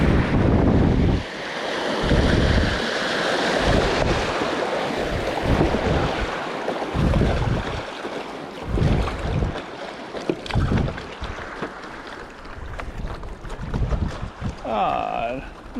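A paddleboard moves through white water rapids on the River Wye, with rushing, splashing water, gusts of wind buffeting the microphone and rhythmic paddle strokes close by.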